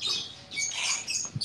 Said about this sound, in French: Ils crient fort, les oiseaux.